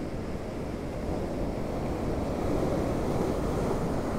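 Storm surge surf pounding a Gulf beach at the start of Hurricane Milton, with wind blowing from the south: a loud, steady roar of crashing waves and buffeting gusts, no voices.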